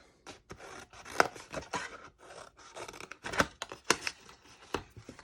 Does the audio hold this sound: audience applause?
no